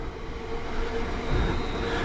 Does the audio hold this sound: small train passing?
yes